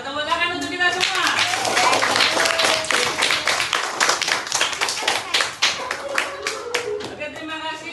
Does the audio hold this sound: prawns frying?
no